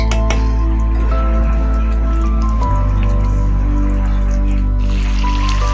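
Water and fish curry simmer over a low flame in a pot, with a steady low hum and soft intermittent bubbling and dripping throughout.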